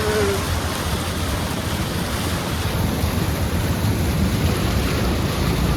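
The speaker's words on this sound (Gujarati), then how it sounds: "હજી પણ વરસાદ શરૂ જ છે" Heavy, steady unseasonal rain roars continuously close by, a dense broadband wash with a low rumble underneath and no voices.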